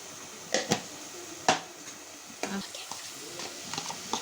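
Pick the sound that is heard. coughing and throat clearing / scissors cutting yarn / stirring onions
stirring onions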